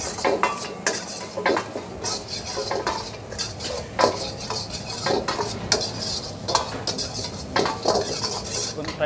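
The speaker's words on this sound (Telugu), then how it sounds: "ఎండుమిరపకాయలు వేసుకుంటే బాగా ఫ్రై చేసుకో, బ్రౌన్ కలర్ వచ్చినంత వరకు" Dry red chillies and capsicum are stir-fried for dragon chicken in a busy restaurant kitchen, with repeated metal scrapes and clanks of a ladle against the pan over a steady sizzle, loud and rhythmic.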